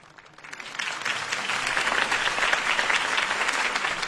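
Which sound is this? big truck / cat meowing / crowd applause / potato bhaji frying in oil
crowd applause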